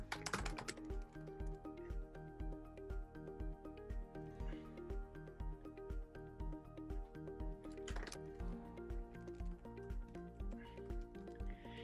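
Steady typing on a computer keyboard, a run of crisp close keystrokes in an even rhythm with a couple of dense bursts, heard alone with no talking.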